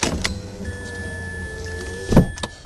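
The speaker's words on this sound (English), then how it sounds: "Roll the window up so they don't make noise." Electric window of a Mazda RX8 rolling up: a steady, close motor whine lasts a couple of seconds and ends in a soft thump as the glass seats, with small clicks around it.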